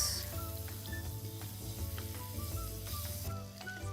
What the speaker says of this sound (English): there the sizzling sound begins